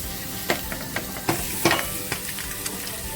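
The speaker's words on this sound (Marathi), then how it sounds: "बघा हलकीशी अंडी आहे ना मी फ्राय करून घेते फक्त" Eggs frying in oil on a flat tawa, a soft continuous sizzle broken by repeated sharp spatula scrapes and taps against the metal, close and fairly quiet.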